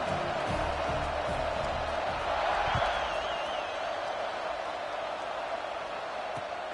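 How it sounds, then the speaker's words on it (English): Stadium crowd at a Houston versus Washington football game murmuring and buzzing after a touchdown, a distant wash of noise throughout with faint whoops and a light swell in the middle. "this crowd is buzzing after that last score"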